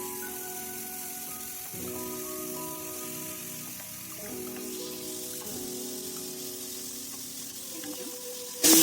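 Onions frying with salt in a pan, a steady close hiss of sizzling that continues without a break, with faint background tones and a brief louder knock at the very end.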